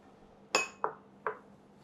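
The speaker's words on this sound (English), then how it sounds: "Now into this bowl, I'm going to add the yolk" Egg yolks dropped into a mixing bowl fitted with a paddle for a chocolate fatless sponge cake, giving one sharp glassy clink followed by two softer taps, close and quiet with no talk.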